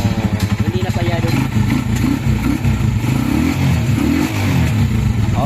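A Rusi Macho 125 motorcycle engine runs close by with an uneven, sputtering beat as it misfires, the loud pulsing rhythm stumbling repeatedly while someone speaks over it.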